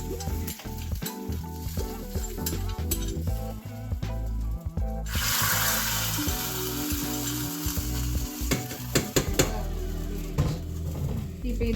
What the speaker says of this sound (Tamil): தாளிச்சோம் இல்லையா, காஞ்ச மிளகாய், பச்சை மிளகாய், சின்ன வெங்காயம், இஞ்சி, கருவேப்பிலை